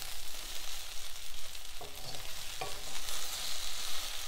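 Okra frying in a nonstick kadhai, a soft, continuous sizzle with a couple of brief scraping stirs, fairly quiet and close, no voices.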